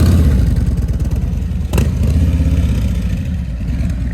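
A new 2021 Harley-Davidson Road Glide Special motorcycle rides past with a loud, steady engine rumble and clattering exhaust, swelling briefly near the middle as it passes close, with no talking.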